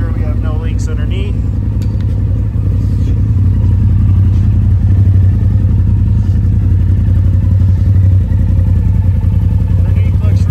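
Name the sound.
Polaris Turbo R engine running after oil change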